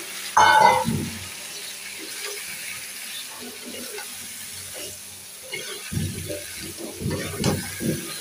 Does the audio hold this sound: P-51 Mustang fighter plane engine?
no